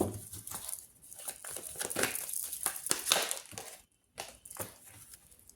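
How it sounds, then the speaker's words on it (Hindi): A deck of cards is shuffled up close in dense riffling, papery bursts that stop briefly, then resume more quietly. "Last shuffle."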